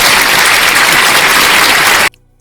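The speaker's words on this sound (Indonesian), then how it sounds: "Tepuk tangan untuk Islam." Audience applause in an Islamic religious lecture, a dense, loud burst of clapping that holds steady for about two seconds, then cuts off abruptly into near silence.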